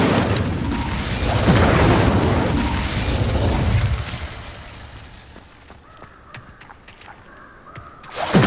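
A fire spell cast in the Hogwarts Legacy video game, a loud whooshing burst of flame with a rumbling roar that fades, followed by quieter scattered clicks and steps.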